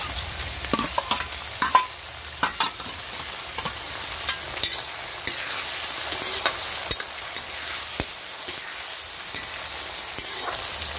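Mixed vegetables (potato, cauliflower, peas, carrot) with chopped tomato fry in a pan, a steady broadband sizzle with scattered clicks and scrapes of stirring, continuous and fairly close, with no talking.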